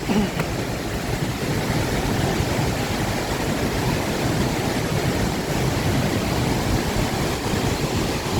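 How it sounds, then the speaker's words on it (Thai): Haew Suwat waterfall in Khao Yai National Park, Thailand, roaring as a dense, continuous rush of falling water, loud and steady throughout with no talk. "น้ำตกเหวสุวัสด์ครับพี่น้อง"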